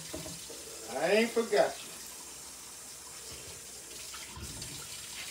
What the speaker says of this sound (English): Just trying to wash this bowl.